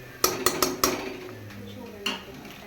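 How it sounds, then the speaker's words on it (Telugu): Chicken curry being stirred in a pot with salt and spices: four quick metal spoon scrapes and clinks against the pot, then a pause and one more clink, close and clear. "సాల్ట్ కూడా వేసేసుకుని కలిపేసుకుందాం."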